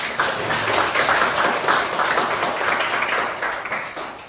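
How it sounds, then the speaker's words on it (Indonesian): A class of participants in a resilience training session claps together, a dense, steady round of applause that holds evenly and fades slightly toward the end. "Tepuk tangan untuk kelas ini."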